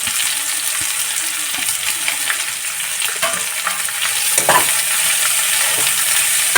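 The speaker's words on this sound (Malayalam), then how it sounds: "ഇനി അതിനകത്തേക്ക് നമ്മൾ സവാള അരിഞ്ഞത് ഇട്ട് കൊടുക്കാം" Sliced onions sizzle and crackle steadily in a hot pan while being stirred, with scraping spoon strokes over a continuous frying hiss.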